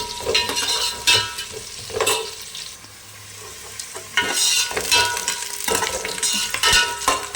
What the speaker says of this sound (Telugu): ఎర్రగడ్డలు వేగడానికి కొద్దిగా సమయం పడుతుంది, కానీ అవి బాగా వేగాలి